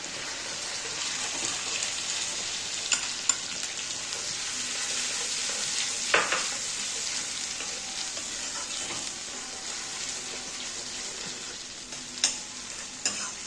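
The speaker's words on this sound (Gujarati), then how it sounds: "ડુંગળીની પ્યુરી લાલ થાય ત્યાં સુધી ચડવા દઈશું એને આપણે" Onion puree cooks in a pan for a restaurant-style Punjabi dum aloo, giving a continuous soft sizzle broken by the scrape and clink of a spoon stirring at intervals, with no one speaking.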